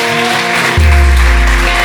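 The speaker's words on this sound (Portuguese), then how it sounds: "Você pode aplaudir o Senhor." A church congregation applauds during a worship service, a steady wash of clapping mixed with backing music that swells with deep bass partway through.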